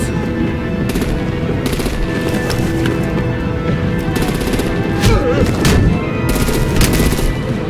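Rapid bursts of gunfire and artillery crackle over a dense, loud battle din with rumbling engines during a Batman Enemy Within video game sequence, continuous throughout with sharper volleys toward the end.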